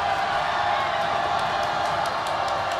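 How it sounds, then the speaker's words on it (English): Crowd at a boys high school basketball game, Blaine vs Centennial, roars in a steady dense wash of cheering and noise through the whole stretch, with faint announcer-like voices mixed in. "As you hear the crowd."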